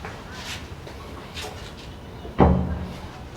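A polished teak wooden door in a house swings and closes with one solid, close thud that rings briefly, after quieter handling sounds and faint background noise.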